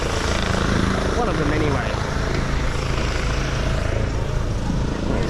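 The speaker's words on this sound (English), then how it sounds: "it's the rescue chopper for Queensland." A rescue helicopter lands nearby, its steady rotor and engine roar filling the background while people talk over it.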